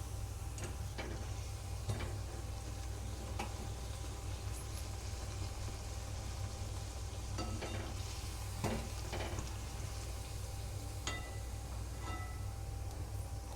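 Spicy fried dhapate puris puffing up in hot oil, a low steady sizzle and bubbling at a distance with scattered faint clicks and pops.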